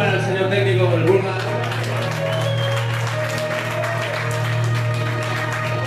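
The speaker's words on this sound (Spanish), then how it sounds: "Un aplauso para el señor técnico del Bulma." Applause and cheering from the crowd at a Christmas rock concert, a steady dense wash of clapping over a low amplified hum, loud and continuous.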